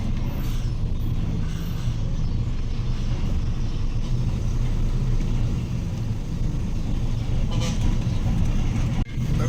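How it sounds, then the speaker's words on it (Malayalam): A queue of trucks and other vehicles at a forest checkpoint on the Bandipur route begins to roll forward, with heavy engines rumbling in a steady, close drone and faint voices underneath. "വണ്ടികൾ വരി നിൽക്കുകയാണ്, വണ്ടികൾ നീങ്ങി തുടങ്ങിയിട്ടാ."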